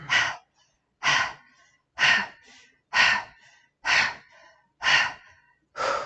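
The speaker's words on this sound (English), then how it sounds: "we're going to do some puffing exhales because we're dragons here" Seven quick, forceful puffing exhales through the nose as a breathing exercise, evenly spaced about one per second, close and clear with brief quiet inhales between.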